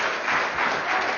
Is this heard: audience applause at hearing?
yes